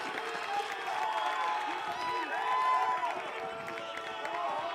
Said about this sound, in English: there's a lot of cheering for a pitch clock violation